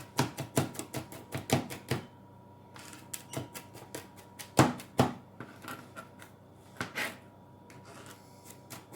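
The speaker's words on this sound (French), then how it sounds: "avec le dos du couteau, après, on l'écrase" A knife blade pressed and scraped against a cutting board while crushing garlic with salt for a bourride fish dish, a series of close, sharp taps and rubbing strokes in irregular bursts with short pauses between.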